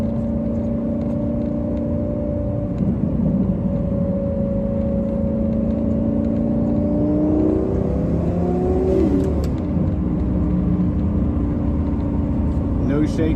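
A twin-turbo Lamborghini Gallardo with a six-speed gated manual pulls hard from inside the cabin, its engine note climbing steadily in pitch, dropping briefly at a shift and then rising again, loud and continuous.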